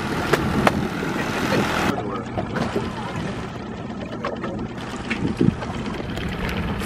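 Boat motor rumble with wind buffeting the microphone, steady and close, with brief knocks and faint background voices.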